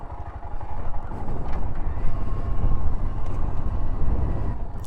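Motorbike engine droning steadily and fairly loud while riding through the sand-swamped abandoned buildings of the Kolmanskop ghost town in the Namibian desert, with wind rush over a continuous low rumble.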